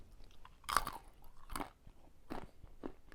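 A caramel and sugar candied hazelnut is chewed up close, giving four or five sharp, brittle crunches spaced irregularly over a few seconds with quiet chewing between them.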